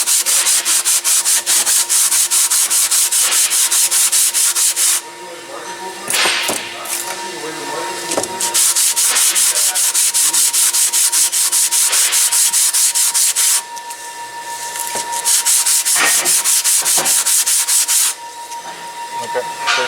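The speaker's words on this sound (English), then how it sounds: "on the flat surface we're just gonna clean this contact on the pads" Sandpaper rubs back and forth across the contact surface of Brembo brake pads from a Genesis G70 in loud, continuous, close scraping strokes, broken by a few short pauses.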